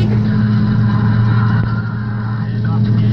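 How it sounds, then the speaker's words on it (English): Harvest machinery working in the dark at the end of the 2017 harvest while a grain cart is topped off: a loud, steady engine drone with a deep, even hum that holds without pause throughout. "Sean's just topping off the grain liner."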